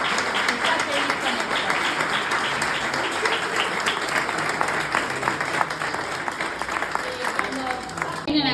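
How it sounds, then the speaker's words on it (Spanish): Sustained, even applause from a large audience at a festival ceremony continues throughout, loud and close, with crowd murmur mixed in. "en este momento pido un fuerte aplauso para él"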